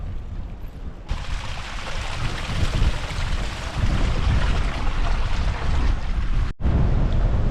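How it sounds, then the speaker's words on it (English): Strong wind gusting across an exposed Scottish mountain ridge on Beinn Ghlas, a loud continuous roar buffeting the microphone with brief dips, heard alone without talk. "I'm starting to get a bit more exposed to the wind now"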